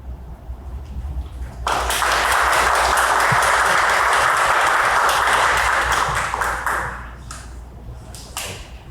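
Sustained applause from an audience at a Pride press conference, a steady dense wash of clapping lasting about five seconds, rising abruptly, then fading into scattered claps.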